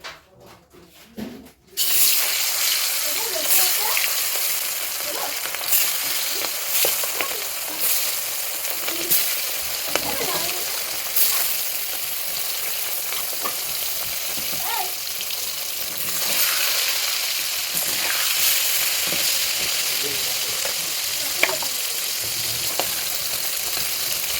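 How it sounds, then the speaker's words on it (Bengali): A river bogo fish dropped into hot oil in a wok bursts into a loud, dense sizzle after a brief quiet start, the frying crackle holding steady with scattered pops and scrapes. "কড়াই তেল দিয়ে দিয়েছি তেল গরম হয়ে গিয়েছে এবার মাছটা দিয়ে দেবো"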